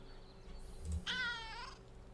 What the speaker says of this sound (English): Cautious meow.